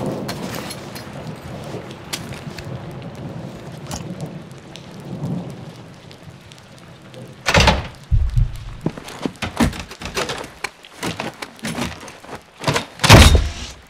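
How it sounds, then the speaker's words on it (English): Door pried open with a fan blade and rope in Call of Duty: Modern Warfare 2, steady rain and rumbling ambience giving way to loud, irregular creaks, thuds and scrapes, then a heavy final crash. "Tie off the blade with the rope and pry open a door."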